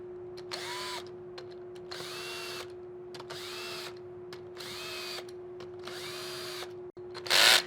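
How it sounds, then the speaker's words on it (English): A cordless power drill whirs in five short bursts, each ending in the ratcheting click of its clutch slipping, followed by a brief louder buzz. "So that's the clutch on my drill stopping it."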